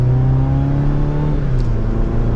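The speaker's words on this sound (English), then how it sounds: "Let's give it a little bit of gas here." A Chevrolet Colorado ZR2 pickup's four-cylinder engine accelerates with a steady, loud droning hum. The pitch climbs slightly, then settles, heard from inside the cab with no talking.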